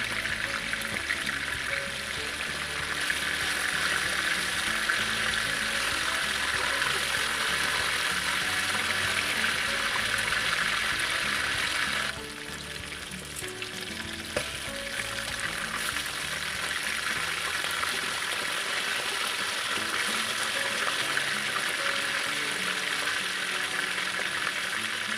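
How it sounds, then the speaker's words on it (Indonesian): Chicken pieces deep-frying in hot oil for fried butter chicken, a steady loud hiss and crackle that continues throughout, briefly dipping in level midway before resuming, with no speech. "Goreng ayam sampai berwarna kuning keemasan."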